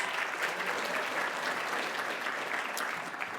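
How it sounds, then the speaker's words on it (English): An audience at a book award ceremony applauds, a sustained, even wash of clapping from many hands heard at a moderate distance, fairly quiet overall. "A round of applause there, please."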